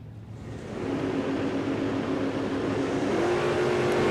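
A drag race car roars and builds to a loud, sustained engine drone at Willowbank Raceway, with a Monaro and a VS Commodore on the strip.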